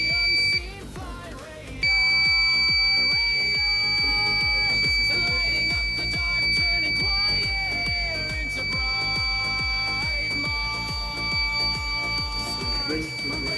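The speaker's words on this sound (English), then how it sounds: "if it detects motion around it that is not metered, it's going to be, the buzzer is going to be going off" A buzzer on a homemade radar motion detector sounds a loud, steady high electronic tone almost continuously, with a brief gap near the start, over a rapid rhythmic mechanical ticking.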